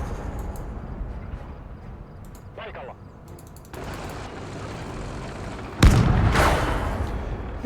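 Gunfire and blasts ring out in a Motherland video game battle, scattered shots and a loud explosion-like burst near the end over steady ambient rumble, with a voice talking over parts of it.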